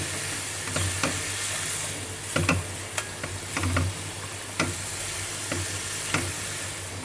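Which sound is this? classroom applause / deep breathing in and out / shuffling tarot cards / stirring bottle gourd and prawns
stirring bottle gourd and prawns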